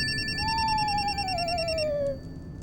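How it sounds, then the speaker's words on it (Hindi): A mobile phone rings with a repeating electronic tone pattern while a drawn-out gliding tone sounds over a low background hum, then the ringing cuts off. "एक मिनट, फोन मेरा बज रहा है"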